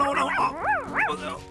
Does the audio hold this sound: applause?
no